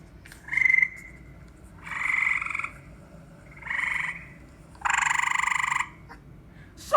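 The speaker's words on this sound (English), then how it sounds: "For instance, some frogs chirp." A frog calls in four separate bursts of bright, trilling chirps, each lasting under a second, spaced a second or so apart against a quiet background, close and clear.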